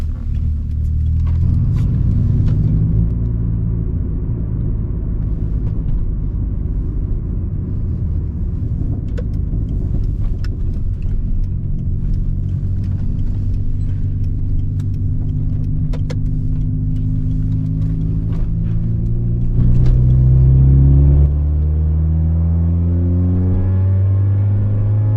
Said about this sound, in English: I hope you can hear the car well and not too much wind.